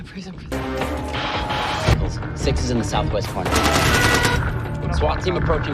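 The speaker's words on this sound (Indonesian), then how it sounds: "tim pasukan pembunuh yang dikirim Hansen langsung menembak membabi buta dan menembaki polisi" Dense movie gunfire as a team of assassins shoots wildly at police, with rapid overlapping bursts, crashes and impacts filling the whole stretch, loud and close with a brief lull near the start.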